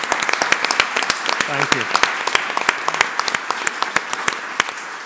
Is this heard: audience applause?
yes